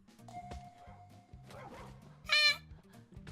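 Dogs fighting and barking, a loud burst of high yipping barks standing out near the end over ongoing background music, fairly close.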